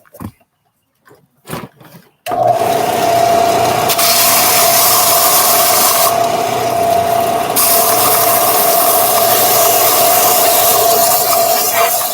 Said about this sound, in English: I'm going to help hit the belt sander real quick